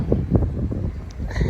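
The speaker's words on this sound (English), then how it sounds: "It's very windy, which I'm sure you can hear" Strong wind buffets a microphone outdoors on a cold day, a continuous low rumbling roar with gusty surges throughout.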